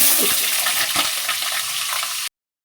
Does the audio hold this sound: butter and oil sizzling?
yes